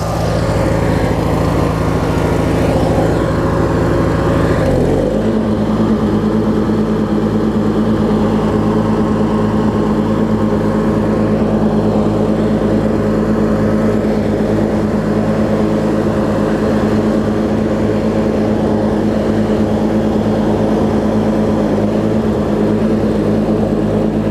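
A Craftsman opposed-twin riding mower engine drones steadily and loudly at close range for the whole stretch, its low, even hum and harmonics holding constant as the mower drives down a driveway, with a brief shift in pitch early on.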